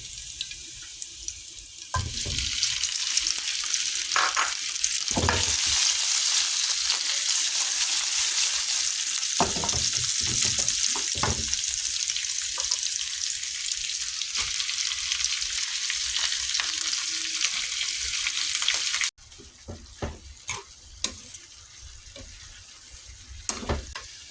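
Chinese leek and roasted pork fry in a pan with a loud, continuous sizzle. Soft clicks and stirring knocks sit under the hiss, and near the end it drops to a quieter bubbling. No one talks.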